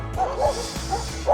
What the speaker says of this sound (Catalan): aquí hi ha una granja d'ovelles i m'han sortit 1, 2, 3, 4 gossos.